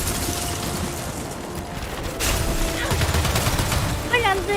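Weapon fire during co-op combat in Gears 5, dense rattling gunshots and mechanical clatter that grow louder partway through, with voices talking over the shooting.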